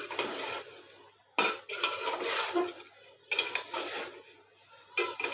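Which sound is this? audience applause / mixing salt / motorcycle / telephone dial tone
mixing salt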